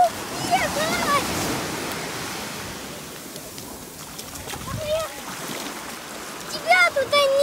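A large ocean wave crashes and rushes up the shore on Lanzarote, a loud foaming surge followed by receding wash, with excited voices and squeals over the water.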